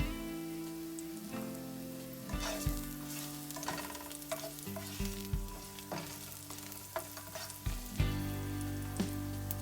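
Garlic frying in a pan as a shrimp and potato curry begins: a steady, close sizzle with repeated clatter and scraping from stirring, and no talking.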